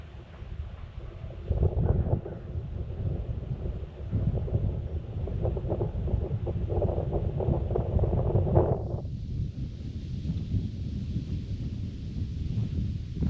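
Wind gusting across a lake around a fishing boat, a steady broadband roar with low rumbling buffets that stays loud throughout and eases slightly toward the end, with no talking.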